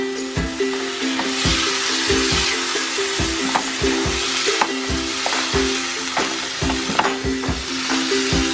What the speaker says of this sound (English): you have to fry the seafood and allow the seafood to completely absorb all that beautiful flavor.